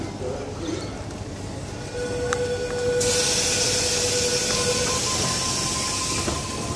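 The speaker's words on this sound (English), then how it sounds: "Service arriving into platform number 2." A Sydney suburban train pulls into a platform at Gymea station with rumbling wheels, rising wheel squeal and a sudden hiss of air brakes, heard loud and close alongside a public-address announcement.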